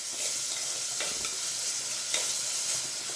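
Onions sautéing in a clay pot (chatti) for a traditional Kerala fish curry: a continuous soft sizzle with scraping stir strokes and light clinks, close and steady, with no voices.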